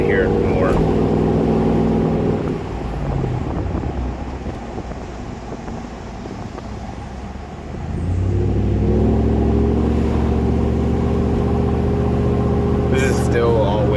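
Engine of a first-generation Toyota Tundra with the Y-pipe removed, droning loudly as the truck pulls uphill with the windows down, a steady low rumble that eases off midway and then swells back up, with wind noise throughout.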